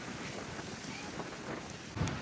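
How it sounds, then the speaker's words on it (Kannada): Strong dusty wind at an outdoor gathering in Hawassa, a steady broadband roar of gusts battering the microphone, close and unbroken, with a brief louder thump near the end. "ಎಷ್ಟು ಗಾಳಿ ಧೂಳು ಆಗಿದೆ ಅಂದರೆ ಎಲ್ಲ ಮನೆಗೆ ಹೊಂಟ್ರು"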